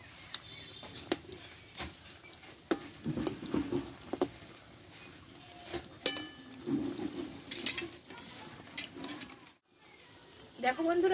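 Cabbage pakoras fry in oil over low-to-medium gas heat while being turned, with a soft crackling sizzle, irregular clacks and scrapes of flipping, and a brief near-silent gap before the frying noise returns.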